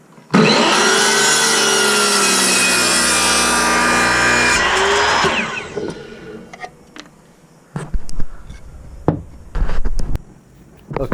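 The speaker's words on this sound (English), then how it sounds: "So I'm just using a miter saw here." A miter saw cuts through pine stool legs with a loud, sustained whine for about five seconds, then spins down, followed by scattered clunks and handling knocks in a workshop.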